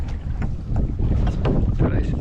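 Wind gusting over open water while a net is hauled in from a small boat, a loud, steady rush of broadband noise that persists throughout.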